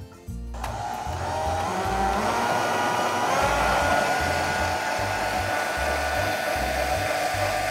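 Electric hand mixer beating cookie dough in a bowl, a steady close whirring motor hum that starts abruptly and runs continuously with a loud low rumble and slight pitch drift.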